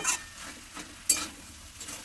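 Malabar spinach cooks in fish oil in a pan: a faint sizzle, with a few soft scrapes and clinks of stirring spaced across a couple of seconds.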